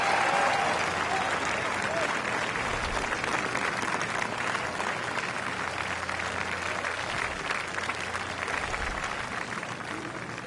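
Steady applause from a large golf gallery in a video game, rewarding an approach out of the rough that stops right beside the hole; the clapping runs dense and continuous the whole time and fades a little toward the end.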